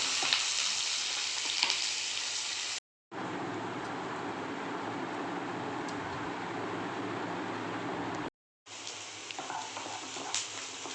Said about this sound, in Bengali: পেঁয়াজগুলো তেলে দিয়ে দিলাম, ভালো করে ভেজে নেব।